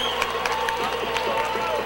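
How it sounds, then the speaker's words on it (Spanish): An audience at a Puerto Rico National Salsa Day tribute concert cheers and applauds under a loud announcer's voice, with a steady crowd roar through the whole stretch. "yo quiero un aplauso para ellos, fuerte para la gente de Z93."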